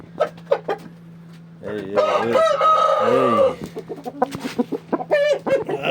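A rooster crows loudly at close range in one long, rising-and-falling call, with scattered clucks and fowl noises before and after.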